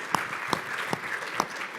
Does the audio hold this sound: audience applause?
yes